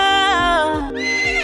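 A horse whinnies loudly and close, a wavering high call over low hoof-like thumps.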